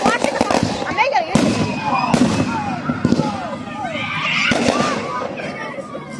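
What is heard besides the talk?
fireworks exploding at a ballgame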